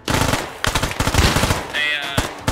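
Gunfire in the military shooter Squad as vehicle tires are shot out: loud, close bursts of rapid automatic fire with short gaps, dense rattling shots and some brief game sounds between volleys.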